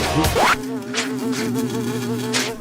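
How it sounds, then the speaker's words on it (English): An Argentinian wasp buzzes around a person on an outdoor game-show course, a close whining drone that wavers in pitch as it circles, with brief rustling bursts. "being bothered by an Argentinian wasp"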